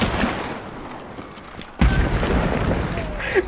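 A sudden sharp boom of an explosive barrel blowing up in Hunt: Showdown cuts in midway, followed by lingering rumble and scattered game noise, with faint talk in the background.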